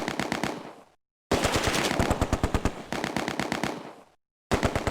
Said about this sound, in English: That's a machine gun. That's a Vickers gun.